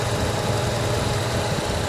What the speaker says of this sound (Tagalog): Andar na ang radiator fan og makina diha mga idol.